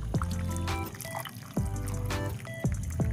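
Boiled pasta lifted out of its cooking water, with soft watery splashes and drips in a few separate bursts, close and fairly quiet.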